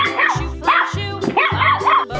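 A cartoon dog sound effect gives a rapid run of about five loud, close barks and yips, some with a whiny edge.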